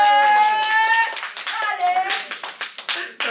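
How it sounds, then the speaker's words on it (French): Audience at a slam poetry tournament, with voices calling out at first, then a run of sharp, close hand claps in short bursts. "Ça s'applaudit 2 fois."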